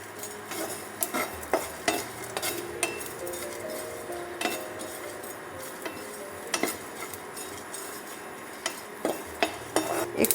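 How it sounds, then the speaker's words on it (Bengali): Puffed rice being stirred and lightly fried in a pan, with a spoon scraping and clinking against the metal in irregular strokes over a soft, steady sizzle. "দিয়ে সব কটাকে আমি একটু নাড়াচাড়া করে ভেজে নেব।"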